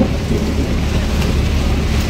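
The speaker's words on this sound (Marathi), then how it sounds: "विजा खडकायला लागला" Heavy rain roars steadily and close on a trip to the Swami Samarth math at Mosare near Panvel, with deep low rumble beneath that could be distant thunder, continuous and loud throughout.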